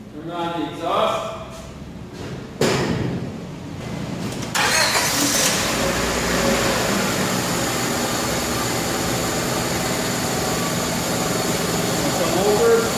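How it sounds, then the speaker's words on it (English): A car engine cranks and starts after a few clicks, then settles into a steady close idle with a constant hum, in an automotive shop with an exhaust hose hooked up. "engine running."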